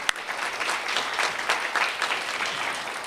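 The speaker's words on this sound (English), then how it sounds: "can we give her a round of applause?" An audience at the Iyeskuwiiu Springboard to DCS Program completion ceremony breaks into steady applause, a dense wash of clapping that lasts the whole few seconds with no speech over it.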